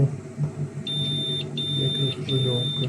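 An EMF detector held near a microwave oven gives a high, continuous electronic tone in three long stretches separated by short breaks, with a low hum underneath.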